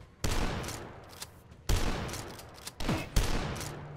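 Gunfire from a weapon in the retro shooter Dusk: three heavy blasts spaced over a few seconds, each a loud, near boom with a decaying tail, with smaller impact sounds between them and no talking.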